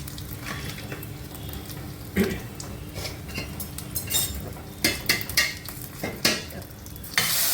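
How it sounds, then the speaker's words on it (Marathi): Tempering (phodni) for South Indian sambar sizzles steadily in hot oil, with red chilli powder and sambar masala added, as a spoon stirs and scrapes the pan, giving intermittent metallic clinks over the continuous frying hiss. "ही आपली फोडणी चांगली तयार झाली आहे। चांगलं फिरवून घेऊया।"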